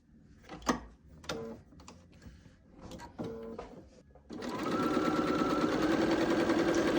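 A sewing machine stitches two quilt shapes together, a steady motorized whir starting about midway and running continuously to the end, preceded by quieter handling clicks and taps.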